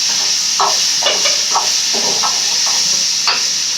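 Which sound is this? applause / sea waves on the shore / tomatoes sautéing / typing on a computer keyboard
tomatoes sautéing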